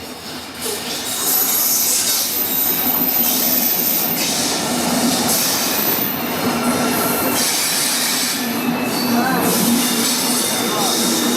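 A train from Madgaon to Hosapete rolls into the station loudly and steadily, wheels squealing on the rails with rumbling carriages, ending in a few sharp screeches as it slows.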